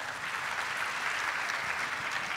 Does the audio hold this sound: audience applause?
yes